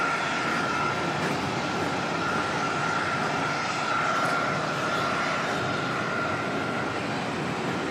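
Jetstar airliner taking off from Auckland Airport bound for Queenstown, a steady broad jet roar heard from a distance, fairly loud and sustained throughout without voices.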